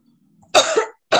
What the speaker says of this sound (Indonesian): Prof, saya batuk.